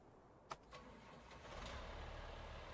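A tractor engine starts up in Farming Simulator 19, with a click and a brief cranking, then the engine catches and settles into a low, steady idle. The sound is fairly faint, and no one talks.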